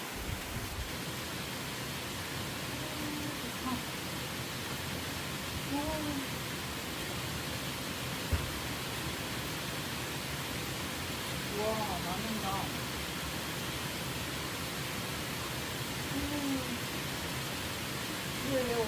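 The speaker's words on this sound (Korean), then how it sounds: "비가 많이 내려요" Heavy rain falls steadily outside a forest cabin, a dense even hiss that continues without pause, with faint voices talking beneath it.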